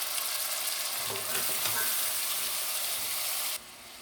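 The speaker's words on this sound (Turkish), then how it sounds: "Kuru fasulyeyi de ilave ediyoruz." Dry beans are added to a pot of frying meat and margarine, which sizzles loudly and steadily with stirring and rustling before the sizzle drops off abruptly near the end.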